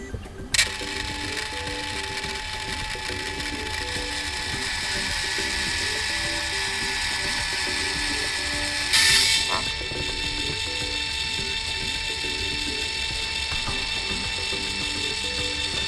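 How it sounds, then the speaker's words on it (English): A Canon Zoemini photo printer printing, a steady mechanical whir with fine repeating ticks and a brief click partway through, close and continuous. "let's try to print again"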